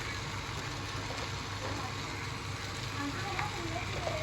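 Fried taro pieces and salt going into a hot pan, giving a soft, continuous sizzle at moderate distance with faint stirring, fairly quiet and unbroken.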